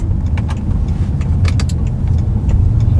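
A BMW M6 with a V10 engine drives around town, a deep, loud engine rumble heard from inside the car, steady throughout with light rattles over it.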